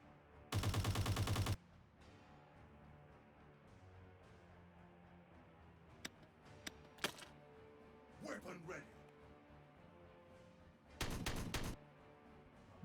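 Video game gunfire from Warhammer 40K Regicide comes in two loud, dense rapid bursts, one near the start and one near the end, with scattered faint clicks and effects between them.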